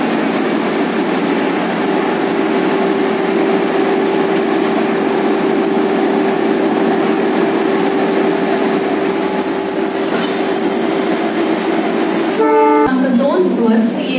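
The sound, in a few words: train with extra banker engine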